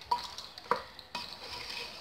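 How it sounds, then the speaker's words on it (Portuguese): Seasoned pork ribs sauté in a pan, a faint sizzle running underneath as a utensil stirs and clinks against the pot in a few distinct knocks. "Você vai refogar, né? Está refogando essa carne."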